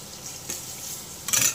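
Slices of pointed gourd (potol) frying in a pan make a soft, steady sizzle, briefly broken by a spatula scraping, at close range with no talking.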